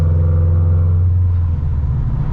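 A tuned Subaru BRZ with a JDL unequal-length header and Nameless exhaust cruises at light throttle, giving a loud, steady, deep exhaust rumble that eases a little partway through, with no voices.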